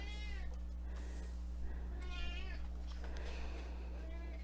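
A cat meows repeatedly at a door, several drawn-out cries close by over a steady low electrical hum.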